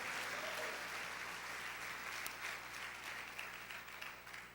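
A church congregation applauds in praise, a broad, sustained wash of clapping that sounds fairly distant and soft, holding steady and tapering slightly toward the end.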